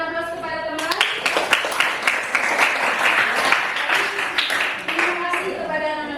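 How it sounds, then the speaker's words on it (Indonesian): Classmates in a school classroom break into a burst of applause, dense clapping from many hands lasting several seconds, with brief speech before it starts. "berikan aplaus kepada teman"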